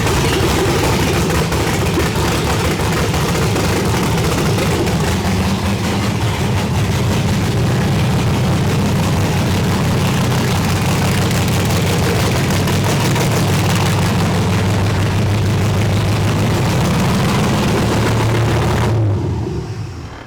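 LS-swapped Mazda Miata engine running rough and rich on the wrong injectors, a loud, steady low rumble with uneven pulsing that goes on for about nineteen seconds before cutting off abruptly.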